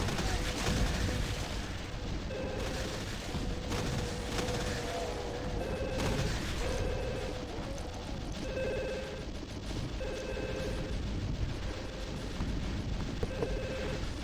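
Continuous shotgun and weapon fire in a Doom 2 slaughter mod, dense overlapping blasts and explosions with game tones, loud and unbroken throughout.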